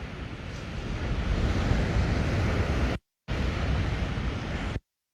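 Waves wash onto Lanikai Beach, Oahu, Hawaii at sunrise in a steady broadband roar thick with wind rumble, cutting out briefly twice.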